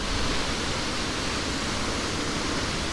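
Falls Creek Falls waterfall roars as a steady, dense broadband rush, loud and close, continuous for the whole stretch with no voices over it.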